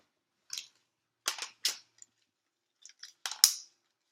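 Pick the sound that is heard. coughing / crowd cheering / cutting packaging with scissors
cutting packaging with scissors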